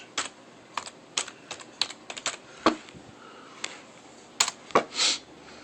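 Keystrokes on a computer keyboard while entering a project name in Pro Tools, a quick irregular run of close, crisp clicks with brief pauses between bursts, no voices.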